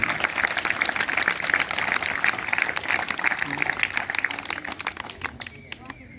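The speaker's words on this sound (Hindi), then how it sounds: "एक बार जोरदार तालियां इस क्लब को" Applause for a club at a government senior secondary school function, a dense, fairly faint patter of many hands clapping together that fades out toward the end, with a voice talking over it.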